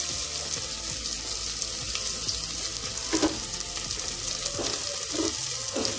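Garlic dropped into hot oil with fennel seeds, a constant close sizzle with a few soft knocks and bubbling spurts, no talking.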